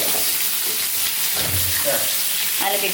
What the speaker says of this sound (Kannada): ಎಣ್ಣೆಯಲ್ಲಿ ಒಳ್ಳೆ ಫ್ರೈ ಆಗಲಿ